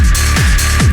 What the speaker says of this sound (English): This is the type of clap you want